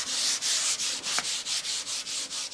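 Sandpaper scuffs a car body panel to prep it for filler in a steady rhythm of about ten even back-and-forth strokes, close and loud, with no talking.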